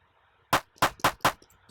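Four distorted kick drum hits with a clap-like snap, a galloping hardcore kick: loud, close, punchy bursts in quick uneven succession over near silence.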